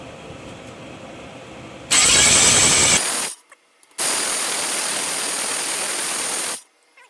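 A starter motor on a Miata engine, loosely fixed to the backplate, cranks in two loud bursts, the second longer, with a harsh whirring grind and a short silence between.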